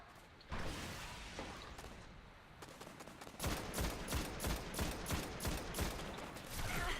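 Enemy gunfire on Mars in the shooter game Destiny, starting with a sustained burst and then settling into a rapid, rhythmic run of loud repeated shots with metallic mechanical edges and no talking.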